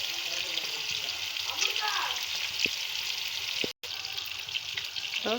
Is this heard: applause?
no